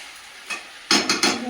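Meat being sautéed and stirred in a pan, with a few close, loud scraping strokes of a spoon over a soft sizzle, following a brief quieter scrape.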